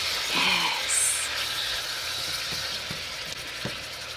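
Cut-up pork tenderloin searing in a hot pan, a steady loud sizzle that runs throughout, with soft clicks and scrapes of a utensil stirring now and then.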